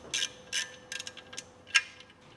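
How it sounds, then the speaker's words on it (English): A handful of short metallic ratcheting bursts from hand-tightening nuts on a Kia/Hyundai V6 engine, close and fairly quiet, spaced irregularly with brief pauses between them. "It's hard to get power tools up in here, so just zipping these up by hand."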